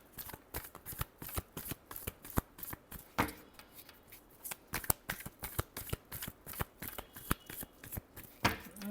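Tarot cards being shuffled by hand close up, a rapid run of crisp riffling snaps and flutters in an irregular rhythm, with no talking.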